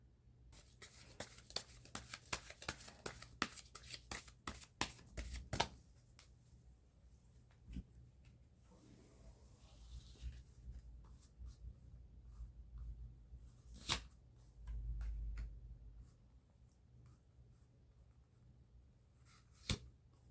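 Tarot cards being shuffled and handled during a reading, rapid crisp flicking and riffling bursts early on, then sparser soft slides and taps, quiet and close.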